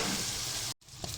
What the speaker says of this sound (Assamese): এতিয়া ভালকৈ লৰাই লৈছোঁ।